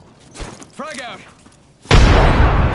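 A frag grenade blast in a PS4 shooter game erupts loudly near the end as a broad, sustained roar, after a shouted voice and some game noise earlier.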